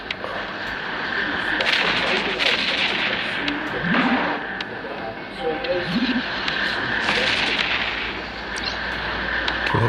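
Ship cannons in the space game EVE Echoes fire as repeated booming shots over a continuous hum, with someone talking throughout.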